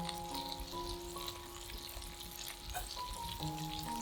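Steady quiet sizzling of tofu pan-frying in oil, a continuous crackle with faint sustained musical tones in the background.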